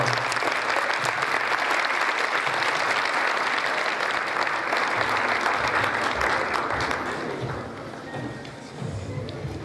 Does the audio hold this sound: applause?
yes